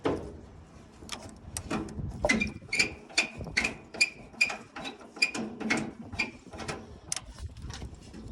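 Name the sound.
small crescent wrench undoing starter on 1940 Chevy truck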